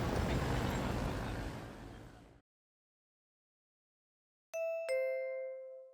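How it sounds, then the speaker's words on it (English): An apartment doorbell in an old residential building chimes with a two-note bing-bong, ringing clearly after a stretch of background noise and a pause of silence, the second tone decaying slowly. "I ring the doorbell, but no one answers"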